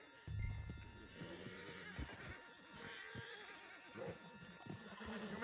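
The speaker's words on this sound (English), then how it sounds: "Put Strauss on the back of John's horse" In Red Dead Redemption 2, a horse lets out a loud whinny, followed by steady clip-clopping hooves, with faint game ambience and voices underneath.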